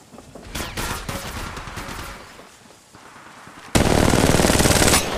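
Rapid automatic gunfire in Apex Legends Mobile, dense bursts of shots rattling loudly, easing off midway, then a sustained, louder volley of continuous fire near the end.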